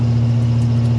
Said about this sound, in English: this exhaust is either kind of a clean, deep sounding exhaust, or it literally sounds like it's trying to kill you